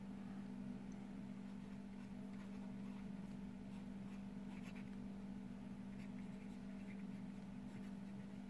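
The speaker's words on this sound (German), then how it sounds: "ich schreibe jetzt mal den Beispielsatz schreibe ich jetzt mal ganz ohne Druck" A Pelikan Souverän M1000 fountain pen glides lightly across paper without pressure, a very faint, soft scratching close up over a steady low room hum.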